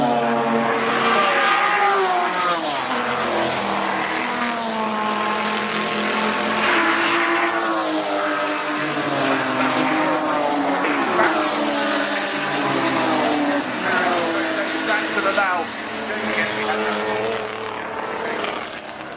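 Historic racing cars at Goodwood Revival in the RAC TT Celebration race, engines roaring continuously and loud with rising and falling revs as several machines pass, no talk over the noise.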